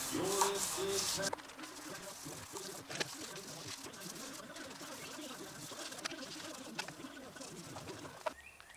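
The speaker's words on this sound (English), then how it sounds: "I'm going to finish getting all the loose stuff out of there by hand sanding it." Steady scratchy rubbing of hand sanding on metal parts of a GMT400 truck under restoration, continuous and close, with faint bird calls in the background.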